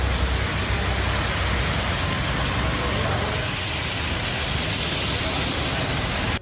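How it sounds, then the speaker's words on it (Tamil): Heavy summer rain falls with strong wind in Dharmapuri, a dense, steady roar of downpour that continues unbroken at constant loudness. "தர்மபுரியில் சூறாவளி காற்றுடன் கனமழை கொட்டி தீர்த்தது"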